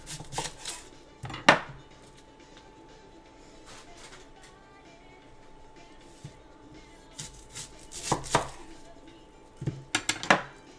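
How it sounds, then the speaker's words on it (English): Knife chopping an onion on a board, a few sharp close chops in short bursts at the start and near the end, separated by quieter stretches of low background noise. "Let me do the onion too."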